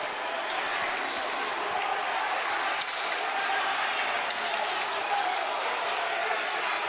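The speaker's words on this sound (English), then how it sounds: "The crowd is loving it." Crowd at a high school hockey game (RHS vs. WEB) roaring and applauding after a fight on the ice, a dense, steady wash of cheering and clapping throughout, with a commentator's voice talking over it.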